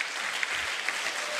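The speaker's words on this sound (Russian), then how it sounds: "И сейчас я приглашаю на эту сцену Эдгара, давайте подарим аплодисменты" An audience at a church youth service applauds, giving dense, steady clapping from many hands that fills the short moment with a few louder claps standing out.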